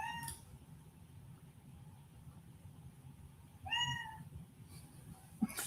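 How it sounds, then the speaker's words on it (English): A cat meows a few times, close by, with short separated calls against a quiet low background hum. "Are you meowing at me, Titan?"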